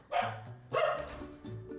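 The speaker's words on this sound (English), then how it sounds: "is that your dog that I'm hearing over there?" A dog barks twice, nearby and fairly clear, followed by a softer whining yip.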